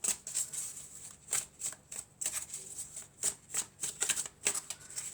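A deck of oracle cards is shuffled by hand, a steady run of crisp, close riffling bursts in quick rhythm, each flurry separated by brief pauses, with no voice over it.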